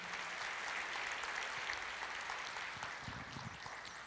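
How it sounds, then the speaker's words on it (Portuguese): A church congregation applauds continuously, a dense, fairly distant wash of clapping with faint voices mixed underneath. "Você pode aplaudir o Senhor?"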